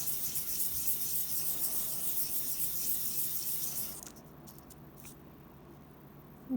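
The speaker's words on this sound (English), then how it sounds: "just sand it again here. This will not really take off any more silver, it will just like polish it" Steady, rapid scratchy rubbing of sandpaper on a small silver charm for several seconds, then it stops, leaving a quiet room with faint clicks.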